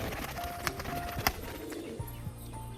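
A pigeon brooding on its eggs in a Rajshahi loft gives soft, intermittent coos, mixed with light taps and a faint flutter, heard fairly close in a quiet setting.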